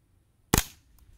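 Single subsonic .22LR shot from a Colt AR-15 Sporter II carbine with a subcaliber bolt, a short sharp crack with a brief decay and faint trailing clicks, no voices.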